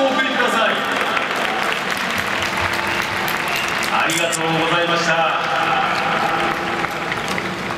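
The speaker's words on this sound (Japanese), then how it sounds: "今一度大きな拍手をお送りください。" Broad applause fills Nagoya Dome after the Sky Roll Open Show at a Dragons baseball game, a steady wash of stadium clapping beneath an announcer's amplified voice.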